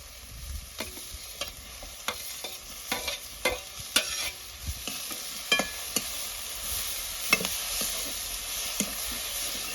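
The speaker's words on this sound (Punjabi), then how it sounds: "ਇਹਨਾਂ ਨੂੰ ਵੀ ਆਪਾਂ ਹਲਕਾ ਜਿਹਾ ਫਰਾਈ ਕਰ ਲੈਂਦੇ" Onions, capsicum and tomatoes fry in a pan under a steady sizzle, while a spatula stirs them in repeated scraping strokes, close and alone.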